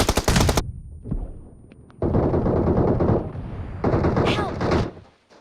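Gunfire in the mobile battle royale game PUBG Mobile (BGMI) starts as a loud rapid burst and returns as two sustained stretches of shooting with game noise.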